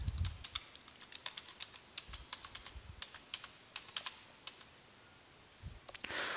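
A password is typed on a computer keyboard as a quick run of close, crisp key clicks with short pauses, ending in a slightly heavier cluster of keystrokes. No one speaks.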